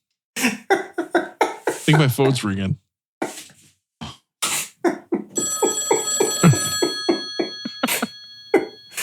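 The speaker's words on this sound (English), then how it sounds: "Hey, Rob, I think my phone's ringing" A phone rings with a steady electronic trill partway through, sounding alongside lively conversation and laughter from several people.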